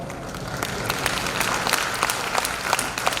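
An audience at a Hindi lecture on values in a materialistic age breaks into dense, sustained clapping that is even and fairly loud, filling the hall.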